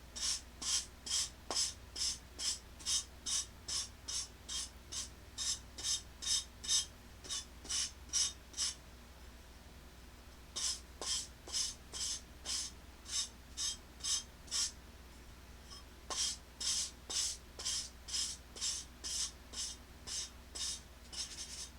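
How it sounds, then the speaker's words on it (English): Edges of ceramic tiles rubbed with a hand sanding block over a garbage can: crisp rhythmic scraping strokes in quick even runs, close and fairly quiet, pausing briefly between bursts. "I'm going to go to the garbage can and sand them."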